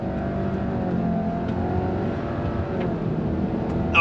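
A 2022 Subaru Legacy GT with CVT and a Honda Accord 2.0T accelerating side by side in a drag race, steady rising engine drone heard from inside a car.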